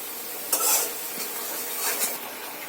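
Chicken meat dropped into fried spices (cardamom, cinnamon, cloves) in a pan, giving a loud wet sizzle with stirring scrapes, close and continuous.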